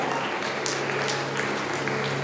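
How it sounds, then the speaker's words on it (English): Steady applause from a school audience at a spelling bee competition, dense and continuous clapping filling the room at moderate loudness for a couple of seconds, with no talking over it. "A big round of applause."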